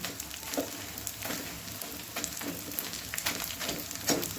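Besan (gram flour) frying in a pan, a steady close crackling sizzle with irregular scraping stirs and small pops, heard alone without speech.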